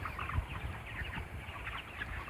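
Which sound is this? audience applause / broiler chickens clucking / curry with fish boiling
broiler chickens clucking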